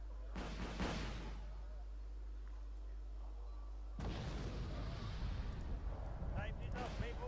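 Bursts of gunfire and artillery booms in the battle game Wargame ALB, one cluster of blasts early on, then quiet, then a longer rolling barrage of shots and explosions; a person speaks over parts of it.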